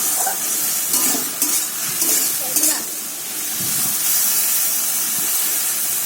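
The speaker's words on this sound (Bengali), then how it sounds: "রান্না এখানে লতি ভাজা করে নিচ্ছি আমি।" Taro stolons frying in a pan, a loud hissing sizzle with steamy spurts and a few clatters of stirring early on, close and continuous.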